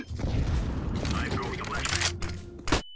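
Flashbang grenade going off in CS:GO, a loud burst of bangs and mechanical clatter followed by a lingering high ringing tone, with a voice talking over the blast.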